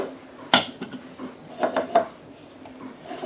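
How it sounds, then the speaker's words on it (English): Film spool dropped into a plastic developing tank and the lid fitted and closed, giving a sharp clack followed by a few lighter knocks and a cluster of plasticky clicks, close and fairly quiet. "you insert that into the developing tank, put the lid on, and close it up"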